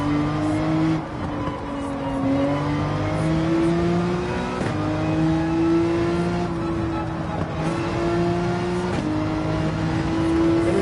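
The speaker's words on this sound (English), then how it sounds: "Oh, I hear the cars and I'm getting nervous." Race cars in Gran Turismo 7 during an online daily race, engines revving hard and shifting through gears in a loud, continuous drone, with other cars roaring close by.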